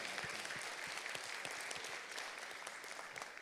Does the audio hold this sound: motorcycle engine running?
no